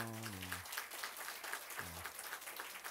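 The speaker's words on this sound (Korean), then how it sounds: "박수 한번 해요." A church congregation applauds, a soft, fairly distant patter of clapping that lasts for nearly three seconds, with a voice speaking briefly at the start and again near the end.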